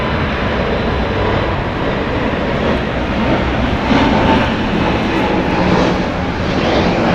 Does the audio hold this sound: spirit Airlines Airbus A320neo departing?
yes